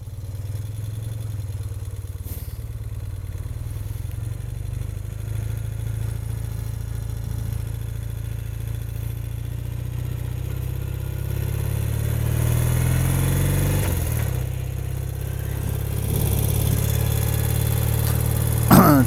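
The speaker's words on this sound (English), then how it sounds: "I'm about to ride to work on a BMW R75/5." A BMW R75/5 motorcycle engine idles steadily close by with a deep low drone, rising a little in revs partway through, with a few faint clanks.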